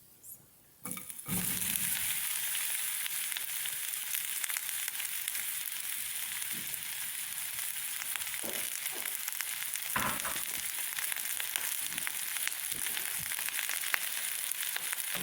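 Onions sizzle in one to two tablespoons of oil in a frying pan on a stove, a steady close hiss with scattered crackles after a short quiet start, with no talking.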